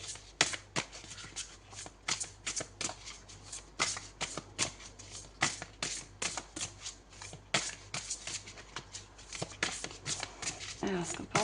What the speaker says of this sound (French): On va voir une autre carte.